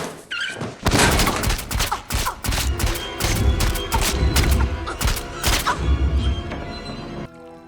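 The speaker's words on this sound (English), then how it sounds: "Nail guns can't shoot without the trigger being pulled." Nail gun firing repeatedly in a Final Destination 3 scene, loud rapid bursts of sharp bangs and thuds in a fast irregular volley, mixed with clattering crashes throughout.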